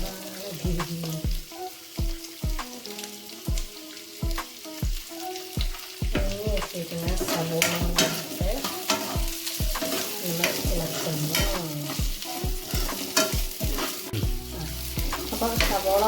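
Sliced onions sauté in a pan for chilli pork, with rhythmic spatula strokes knocking against the pan over a constant sizzle, and tonal background sound running underneath.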